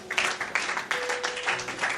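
A church congregation claps together in rhythmic bursts of applause, close and lively, filling the whole moment.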